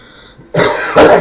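A single person clears the throat and coughs twice in quick succession, close and loud, after a brief quiet moment.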